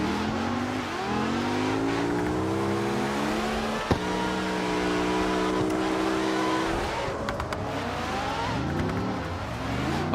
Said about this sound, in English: I hear that RX-7 or that rotary motor behind me